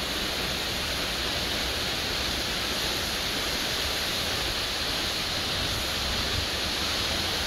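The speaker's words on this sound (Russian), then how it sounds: "Мы пришли к водопаду. Наш любимый водопад." Bridal Veil Falls waterfall, heard from close below as a steady, dense rushing roar of falling water that stays constant throughout with no voices.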